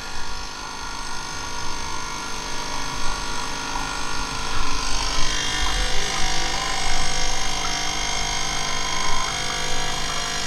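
A coffee machine brews while powered from a Novopal 1500 W inverter on a motorhome's 12-volt leisure batteries, giving a steady electric hum with pump-like whirring that thickens midway, close and continuous with no voices.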